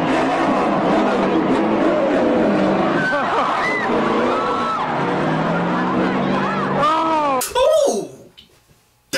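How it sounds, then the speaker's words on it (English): A race car in a road race roars and revs with tire squeal and skidding, loud and near throughout, while people's voices and shouting mix in, before cutting off abruptly near the end. "Mike, once you grab onto a moving vehicle, a race car at that, and it starts moving"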